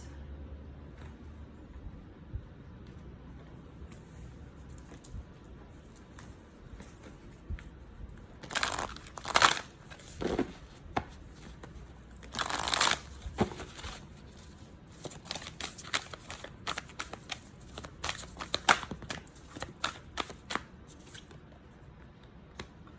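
A deck of cards being drawn and shuffled close by, with bursts of crisp riffling and snapping clustered in the middle and a run of quick flicks toward the end, no voices.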